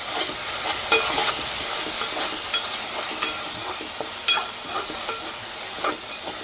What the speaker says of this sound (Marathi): आता कांद्याला तेल सुटलं की त्यावर टोमॅटोची पेस्ट घालून ती व्यवस्थित परतून घेऊया